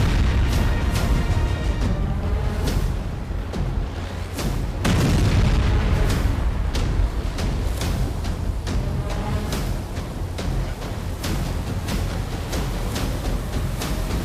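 Loud, continuous war-zone rumble from Gaza news footage, with repeated booming blasts and dense low-frequency roar throughout, a heavy burst near the middle and sharp pops scattered over a constant noisy background.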